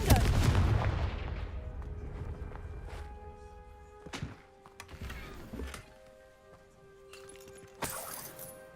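A Confringo fire spell erupts in Hogwarts Legacy with a loud, close burst at the start, followed by scattered sharp impacts and crackles that fade into quieter game ambience.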